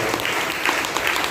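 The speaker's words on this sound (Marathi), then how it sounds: "आपण जोरात टाळ्या द्या प्रभू येशूला धन्यवाद." A church congregation claps loudly together, a dense, steady wash of applause filling the whole short moment without pause.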